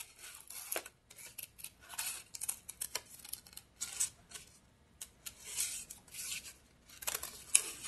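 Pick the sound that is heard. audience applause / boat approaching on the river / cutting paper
cutting paper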